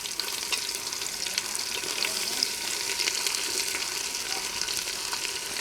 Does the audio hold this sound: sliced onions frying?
yes